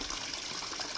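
Water gushing steadily from a pipe on a farm, a continuous close rushing flow with no pauses over a short moment.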